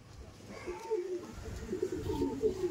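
Pigeons kept for tournament flying coo softly and close by, low throaty burbling calls in a couple of gentle rising phrases over a quiet background.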